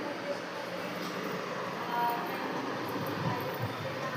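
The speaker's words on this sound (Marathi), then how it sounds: "हे बघा इथे ह्या साईडला मेट्रो आहे" A metro train rumbles past outside a bedroom as a low, steady, fairly distant rolling drone with soft rail clicks, while someone talks over it.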